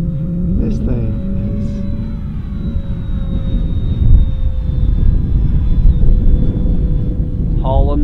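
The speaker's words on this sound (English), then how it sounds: "Maiden flight, full speed pass." An FMS P-47 Razorback 1500mm RC model plane makes a full-speed pass with a steady, loud electric whine and droning rumble, its pitch shifting slightly as it passes, and voices heard briefly over it.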